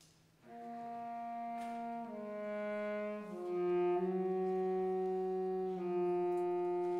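A baritone saxophone plays a slow, ominous seahorse theme at a band concert, sustained low notes shifting a few times and building slightly in loudness, with no talking.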